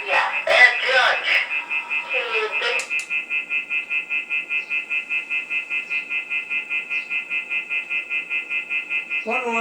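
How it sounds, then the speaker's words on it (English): An alarm beeps in a rapid, even electronic pulse that keeps going after a voice speaks over its start, steady and moderately loud in a room. "What alarm is that?"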